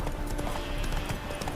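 Roach, a horse in The Witcher 3, spooked, with steady clip-clop hoof beats close by at a fast rhythm and faint neighing underneath.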